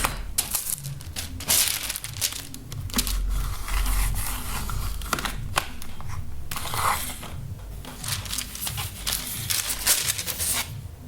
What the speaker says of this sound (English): so I'm just going to cut this one piece off